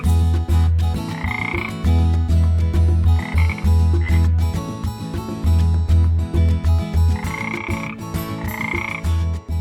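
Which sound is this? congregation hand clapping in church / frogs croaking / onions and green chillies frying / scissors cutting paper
frogs croaking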